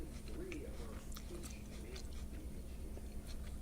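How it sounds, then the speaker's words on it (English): Someone munching apple slices with peanut butter, close and quiet, with soft repeated bites and chewing under a steady background hum and some talk. "So you're gonna hear me munching."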